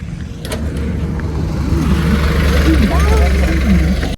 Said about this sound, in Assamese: এই চাইকেলখন অঁতৰাই দিয়ক গাড়ী আহিছে